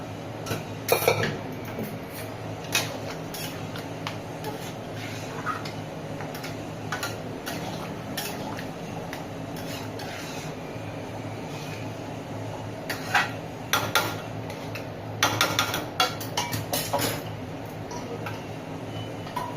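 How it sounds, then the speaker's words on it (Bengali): Chickpeas being added to a pan of cooked-down spices for chana masala, with utensil ticks and clinks against the pan and soft, steady cooking noise underneath, louder scraping bursts near the start and toward the end. "এবার আমি চানাগুলো দিয়ে দিই।"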